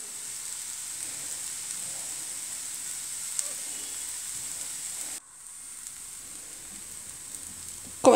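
Crepe batter in a small pan sizzles softly and steadily after the crepe is flipped by hand, a faint continuous frying hiss broken by a brief pause and a small knock at the end.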